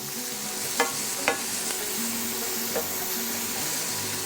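Onions and carrots sautéing in a pan, a continuous close sizzle with a few sharp clinks of a utensil against the pan early on and another later, no voices.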